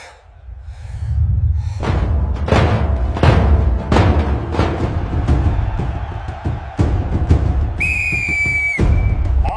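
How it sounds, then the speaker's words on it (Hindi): A referee blows a sharp whistle near the end of a wrestling bout, a piercing tone of about a second that cuts through the loud crowd noise and the heavy thuds before it. "रेफरी काका, सीटी बजाइए"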